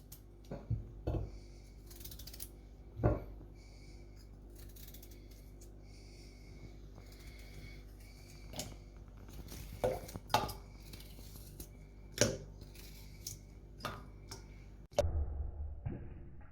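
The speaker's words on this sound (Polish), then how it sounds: "Na początek obierzemy sobie ziemniaki i pokroimy w drobną kostkę." Quiet kitchen work peeling and dicing potatoes: scattered knife taps and clinks of utensils against a board or bowl, irregular and close, with no talking.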